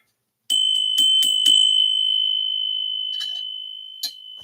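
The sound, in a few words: bell ringing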